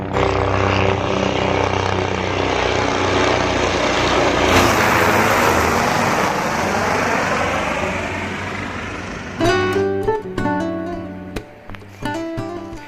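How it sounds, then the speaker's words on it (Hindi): Loud, droning rotor roar of helicopters passing overhead at Kedarnath, swelling and slowly fading, then a few short tonal calls and knocks near the end. "ये हेलीकॉप्टर आ रहे हैं पीछे से"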